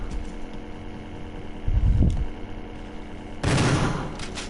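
Gunfire from the video game Resident Evil remake: two loud, close bursts of shots, the first short and the second a longer, rougher volley, over a low ambient game background.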